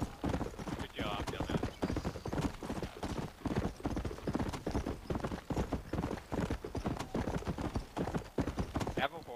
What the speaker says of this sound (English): Kido guy almost rode my horse off that cliff.